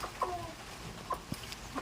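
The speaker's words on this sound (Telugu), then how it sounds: "ఇంక ఇప్పుడు ఈ కోళ్ళు తెచ్చి, నాటుకోళ్ళు తెచ్చి సాగుతా ఉన్నా అనమాట" Native country chickens, one black and one red, clucking nearby in a yard: a few short scattered clucks over a low outdoor background, fairly faint.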